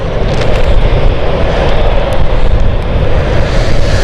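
An aircraft on the Belfast flight takes off at London City Airport, a loud, sustained engine roar filling the entire clip with broad, rumbling power.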